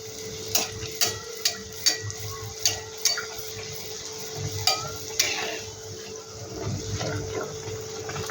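Ripe mango malpua frying in oil, a steady soft sizzle under a run of sharp, evenly spaced clicks and taps from a utensil against the pan, close and moderately loud, with no talking.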